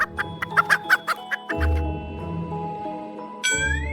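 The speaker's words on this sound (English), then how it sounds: "H is for hen." A quick series of short clucking calls from a hen, bright and close, followed by a lower sustained tone with background music.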